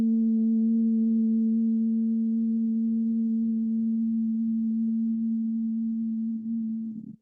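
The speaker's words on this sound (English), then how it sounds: "So humming out loud with me." A steady, sustained hum carries evenly for about seven seconds at a low, constant pitch, close and fairly loud, with no talking, as part of an EFT tapping relaxation exercise.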